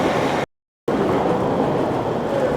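A continuous rumbling roar of a train running nonstop on the Qinghai-Tibet Railway toward Lhasa, steady and fairly loud, cut by a brief dropout of silence near the start.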